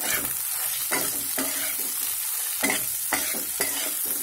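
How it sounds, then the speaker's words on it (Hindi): Eggs fry in hot mustard oil in a pan, a steady close sizzle broken by several bursts of stirring and scraping, with no voices. "अब हम इसमें ये अंडे डाल देंगे और इसे हमें हल्का फ्राई करना है।"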